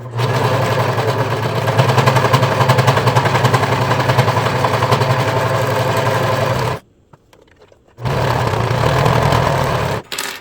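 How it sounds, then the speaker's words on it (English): A serger sewing machine stitches along fabric edges while sewing a ruffle top, running in a steady, fast, loud mechanical whir that stops abruptly for about a second, then resumes briefly and cuts off again. "we'll go ahead and serge that as well"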